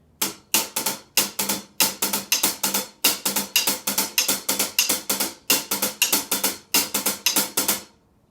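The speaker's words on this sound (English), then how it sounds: "playing on the closed hi-hat and then playing on the hi-hat stand with his left hand" Crisp, closed hi-hat strokes in a steady swinging rhythm, with sharper metallic clicks from the stand mixed in, played alone and up close.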